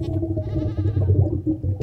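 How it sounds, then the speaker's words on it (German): Goats bleating in a short, loud, wavering call, close by and alone, with a quivering, nasal tone lasting over a second. "Das sind Ziegen."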